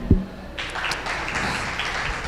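A crowd at a music talent search launch event breaks into applause after a brief thump, the clapping swelling into a steady, moderately loud wash that continues to the end.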